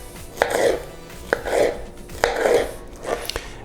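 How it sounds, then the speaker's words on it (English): A knife slices a pineapple into strips on a cutting board, with three or four distinct chops in a slow, even rhythm, each a sharp knock followed by a brief crunchy slicing sound, close and clear. "So cut it in half, and then you'll want to cut it into strips."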